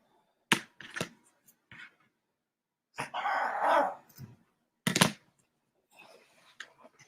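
A pet dog barks near the microphone in sharp, separate bursts spread over several seconds, with one longer growling stretch in the middle and quieter yips near the end.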